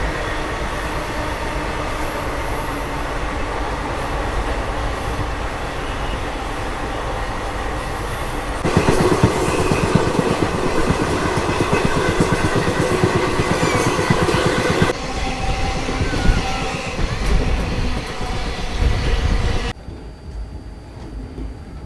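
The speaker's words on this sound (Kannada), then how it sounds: "ಈ ಸಿಂಧನೂರು ಎಕ್ಸ್ಪ್ರೆಸ್ ಸದ್ಯಕ್ಕೆ ತಲುಪಿದೆ ಕರಾಟ್ಗಿ ರೈಲ್ವೆ ಸ್ಟೇಷನ್ಗೆ" Sindhanur Express rolling on rails into Karatagi railway station, a loud, close rumble of wheels with clattering joints and faint squeals, shifting in character along the way before dropping away at the end.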